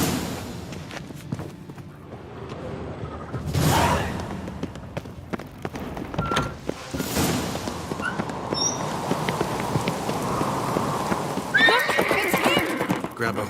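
Horses whinny and hooves clatter at a gallop amid game action, with voices speaking over the busy, steady rush of movement.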